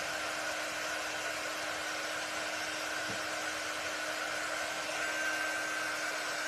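A blow dryer hums and hisses steadily at close range as it dries a spring butterfly craft piece, with an even airy whine throughout and no talking.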